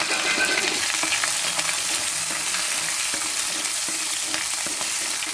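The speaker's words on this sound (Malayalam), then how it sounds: "നമ്മൾ ഇഞ്ചി വെളുത്തുള്ളി പച്ചമുളക് ചതച്ച് വെച്ചേക്കുന്നത് അങ്ങോട്ട് ഇട്ട് കൊടുക്കാം" Crushed ginger, garlic and green chili frying in oil with fenugreek for mango pickle, producing a loud, steady, hissing sizzle close up, with faint stirring clicks underneath.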